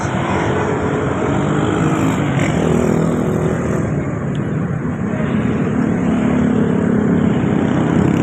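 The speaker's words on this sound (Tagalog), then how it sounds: "Grabe traffic man daw sa Cebu City guys." Dense city traffic in Cebu City, near a skywalk and gate: a continuous loud roar of engines and road noise with no breaks, motorcycles and cars blending into a constant wash.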